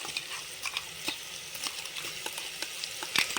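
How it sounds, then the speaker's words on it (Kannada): A spinach pulao mixture of ground palak paste bubbles in a pot on the stove, with a soft continuous hiss broken by scattered small pops and bubbling clicks, fairly faint and close. "ಈಗ ನೋಡ್ರಿ, ಈಗ ಕುದಿಯಕತ್ತೈತಲ್ಲ"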